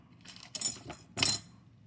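Pliers snip jewelry wire for a heart-shaped necklace and earring piece, giving a few faint metallic clicks and one sharper clip near the end, close and quiet with no talking.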